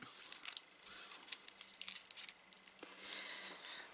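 Paper is wrapped around a small crafted gift box, giving close, quiet crinkling, rustling and a few crisp snips or tears in irregular bursts, with no voice.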